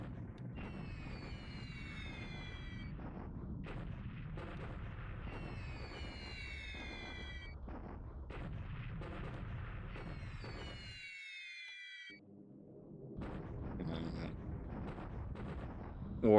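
Artillery bombardment in a World War II war game set in 1942, pounding a recon regiment: continuous low rumbling blasts and bursts with repeated whistling shell sounds overhead, steady and dense, briefly dropping out near the end.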